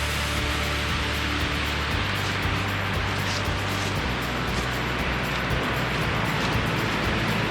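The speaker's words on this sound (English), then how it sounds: "Look at this waterfall." Steady broadband rush of a waterfall at the Kitayamazaki cliffs on the Michinoku Coastal Trail, continuous and fairly loud, with a low hum running underneath throughout.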